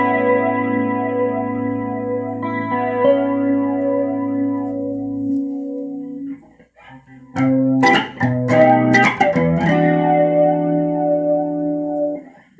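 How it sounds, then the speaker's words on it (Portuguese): Electric guitar through the flanger effect of a Zoom GFX-5 multi-effects pedalboard, held chords with a sweeping, wavering tone, a brief pause, then picked notes and strums resuming, close and alone. "Aqui é o som de flanger dele."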